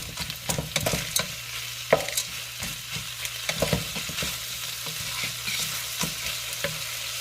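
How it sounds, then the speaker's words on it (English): A pot of creamy chicken noodle soup (sopas) bubbles and sizzles steadily, punctuated by scattered clinks and stirring knocks against the pot. "let it simmer for a bit"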